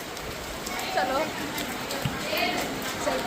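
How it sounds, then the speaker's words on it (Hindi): Rain falls under a clear sky at an eco park in Kolkata, a steady pattering hiss with occasional drips throughout, while people talk over it. "लेकिन आसमान एकदम साफ है और बारिश हो रही है।"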